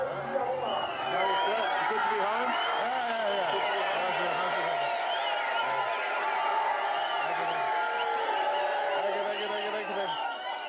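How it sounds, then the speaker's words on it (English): A crowd gathers at an election rally in Tari, Papua New Guinea, making a dense, steady murmur of many voices that carries on without a break. "But today, the crowd is in good spirits."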